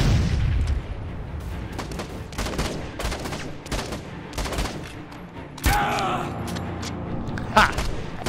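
Gunfire in the video game Dead Rising 4, a run of sharp repeated shots and bursts with a louder volley near the end, under game noise and a speaking voice.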